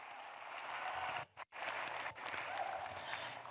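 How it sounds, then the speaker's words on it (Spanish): An audience applauds a performer at a feminist movements event, a continuous, moderately faint wash of clapping, briefly cut by a sudden dropout and a sharp break before resuming evenly. "Un aplauso a Classic Carella."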